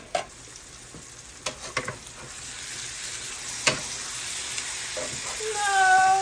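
Ground beef sizzles and fries in a pan for spaghetti, a steady crackling hiss with a few sharp pops and scrapes of stirring early on, close and fairly loud, rising slightly toward the end.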